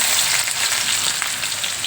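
Onions with chana dal and urad dal frying in hot oil in a pan for avalakki uppittu, a loud continuous close sizzle with no pauses.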